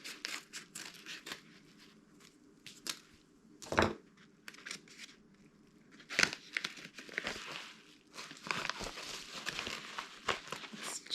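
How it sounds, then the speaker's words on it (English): Furniture packaging being cut open, with scattered crinkling and sharp slicing and tearing bursts, two louder rips standing out among quieter rustling close by. "Seeing if I can cut this open here without"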